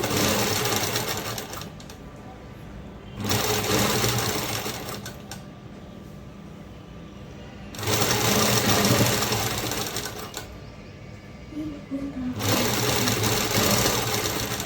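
A domestic sewing machine stitches a narrow folded hem on fabric for an umbrella-cut dress, running in three steady bursts of close, loud whirring separated by quieter pauses, with no talk.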